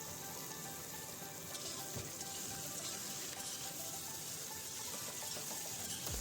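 Mutton pieces frying in a pan with onions and salt during preparation of an Assamese mutton stew, giving a steady, close hiss and sizzle that continues unbroken throughout with no talking.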